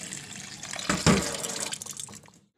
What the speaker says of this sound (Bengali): আমি আলুগুলোকে সুন্দর করে ধুয়ে নিচ্ছি।